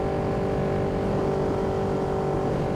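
A Ducati Panigale V2 motorcycle engine hums steadily while riding, a constant loud drone at even speed with wind noise and no talking.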